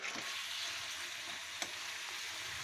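Kokum pulihora mixture simmers and sizzles in a pan on a stove, a constant, dense frying hiss with one small knock or stir partway through.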